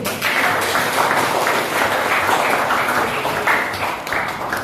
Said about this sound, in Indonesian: Terima kasih ya Mas Aji, tepuk tangan dulu